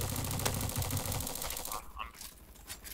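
Gunfire in the Roblox shooter Bad Business, a quiet rapid run of shots over the first couple of seconds that fades into softer game noise.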